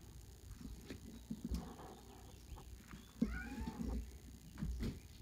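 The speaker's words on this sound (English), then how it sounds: "That was my kitty cat, in case you hear that." A cat meows softly in the background, a couple of short calls amid faint household noise and quiet rustling.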